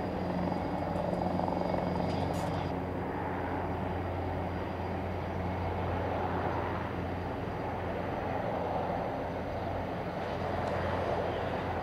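A rescue helicopter hovers during a large joint disaster drill in Yokohama, its rotor and engine roaring in a steady, heavy drone throughout with a constant low hum and no talk.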